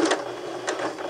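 A sewing machine running a back stitch, with a fast, even mechanical whir and a rhythmic needle clatter close by, steady for about a second with no voices.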